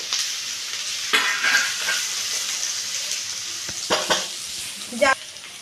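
Chopped tomato with ginger paste is sautéed and stirred in a pan, a soft sizzle broken by several sharp spatula scrapes and clatters, close by and without speech.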